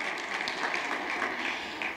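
Congregation in a church service clapping, a dense steady wash of applause sustained throughout at moderate level with no talk over it.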